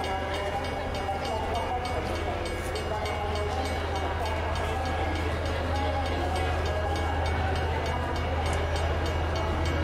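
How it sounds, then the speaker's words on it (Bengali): A passenger train pulls into a station as a sound effect in a detective story, giving a loud, continuous rumbling roar with faint rhythmic clatter that holds steady throughout. "এরপর এলো আমাদের ট্রেন।"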